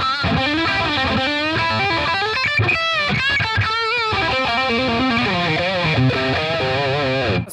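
A heavily distorted Charvel Pro-Mod SO-CAL electric guitar plays a continuous lead line with bent notes and thick, gritty sustain, loud and alone, using a bright, biting bridge pickup tone.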